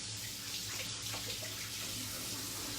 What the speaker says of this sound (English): I wash those mushrooms really quickly.